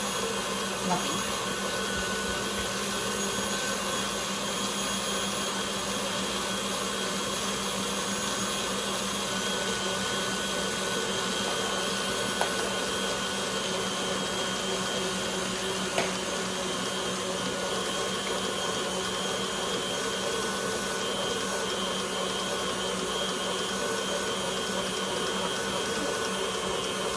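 An electric mixer whirs steadily on high speed, whipping peanut butter icing, a constant, even hum that continues unbroken and fairly quiet for a long stretch.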